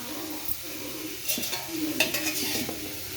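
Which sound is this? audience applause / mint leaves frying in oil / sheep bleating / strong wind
mint leaves frying in oil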